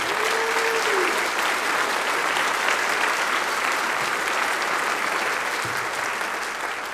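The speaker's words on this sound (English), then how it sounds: "I think that deserves a round of applause for having made both" Concert audience at a school spring band concert gives a sustained round of applause for All-State choir students, a dense, even wash of many hands clapping lasting several seconds at steady volume.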